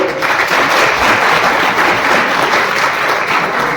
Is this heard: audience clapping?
yes